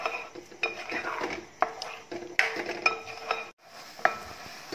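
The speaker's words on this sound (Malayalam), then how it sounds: "നമ്മൾ ഇളക്കി കൊടുക്കണം. അടിന്നും പിടിക്കാണ്ടിരിക്കാനായിട്ട് നന്നായി ഇളക്കി കൊടുക്കുക." A spoon scrapes and clatters against a pot as ada pradhaman is stirred in thick jaggery syrup, with repeated close metallic knocks and scraping strokes in an uneven rhythm and a faint simmer beneath.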